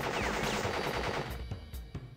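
Gunfire from the boss Pinstripe's gun in the Crash Bandicoot video game, a dense run of rapid shots over busy game music and effects, loud throughout with a few sharper bursts near the end.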